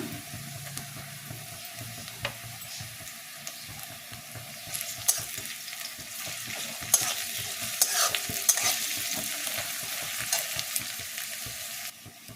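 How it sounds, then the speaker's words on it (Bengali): Onion fried reddish with garlic paste in a pan, a steady sizzle punctuated by repeated spatula scrapes and stirring clicks, growing louder midway. "পেঁয়াজটা আমার লাল লাল করে ভাজা হয়ে গেছে। এরপর আমি এতে রসুন বাটা দেব।"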